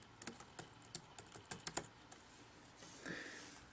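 Typing on a Mac computer keyboard, a quick run of crisp close key clicks in an uneven rhythm, then a pause and a softer rustle near the end, quiet in a still room.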